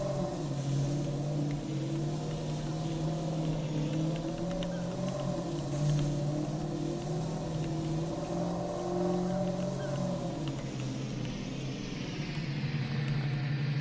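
A pickup truck engine idles and rumbles steadily while backing a gooseneck trailer into position in the Yukon River Valley, a continuous close drone with slight rises in pitch and no pauses.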